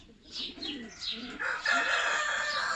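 Brahma chickens cluck and call nearby in short bursts, followed by a longer crowing-like call from a Brahma rooster, with no talking.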